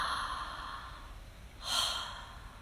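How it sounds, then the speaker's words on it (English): A person takes a deep breath in, a soft, airy inhalation that swells briefly near the end against a quiet, hissy background, close and alone without any talking. "And then take another really deep breath in"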